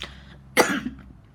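A single short, rough cough, close and fairly loud, after a brief moment of quiet.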